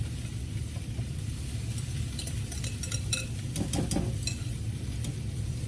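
Beaten eggs pour into a pan of melted butter for British scrambled eggs, a low steady sizzle under clinks and scraping of a utensil against the pan, close and fairly quiet.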